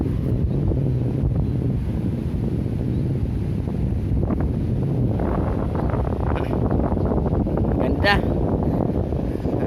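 Steady, loud wind roaring across the microphone on the Pacific Ocean shore, with a constant rush of open sea air and no voices.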